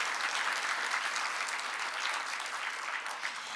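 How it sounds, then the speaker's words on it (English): Guests at an alumni awards ceremony give the faculty a steady round of applause, a dense wash of many clapping hands heard from a distance at moderate volume. "give a round of applause to our incredible faculty"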